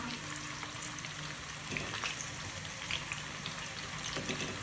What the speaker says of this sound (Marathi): आता आपण त्याच्या चिप्स मस्त असं तेल गरम झाल्यानंतर असे कडक फ्राय होईपर्यंत तळून घेऊया